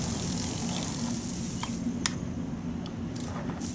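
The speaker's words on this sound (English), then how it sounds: "so I'm going to show you what it looks like spraying out." Steady hissing spray of weed-killer liquid from a garden sprayer, fairly close, with a broad even rush that continues throughout and a few faint clicks near the end.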